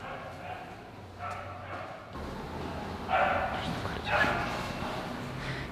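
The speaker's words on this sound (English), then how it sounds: "to get rid of the dog following us" A dog barks a few times, faint and at some distance, while following people around an abandoned house in Gyumri, Armenia. People talk over and around the barks.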